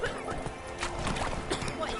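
Roach, a video game horse, neighs amid ongoing hoof clip-clops, a whinny rising over steady movement; a voice is also heard speaking.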